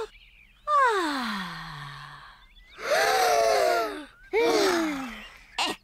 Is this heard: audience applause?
no